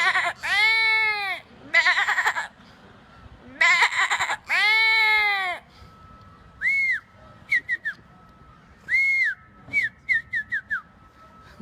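A human voice mimics a small puppy with a series of high, wavering whines and yelps, first long drawn-out cries, then shorter, sharper squeaks in quick bursts, close and clear.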